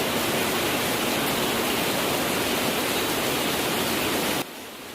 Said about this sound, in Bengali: এর মধ্যে দেখি বৃষ্টিও শুরু হয়ে গিয়েছে